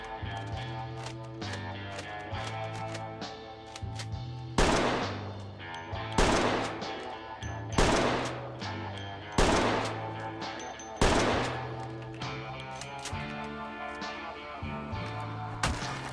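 Rifle fire in Project Zomboid, a series of about six sharp shots spaced roughly a second and a half apart, each with a short decaying tail, over steady game music.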